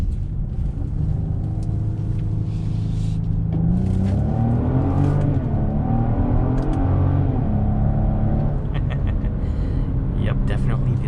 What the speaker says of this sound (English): Let's go ahead and do another acceleration right here.